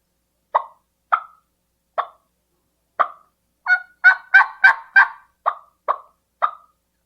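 A turkey hunter imitates turkey clucking with a call, giving a string of sharp, evenly spaced single clucks that bunch into a quicker run of louder clucks midway, then slow again, close and clear against silence.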